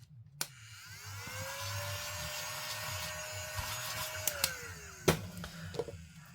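A small handheld vacuum cleaner whirs steadily with a rising then falling motor tone, fairly close, broken by a few brief clicks and knocks near the end.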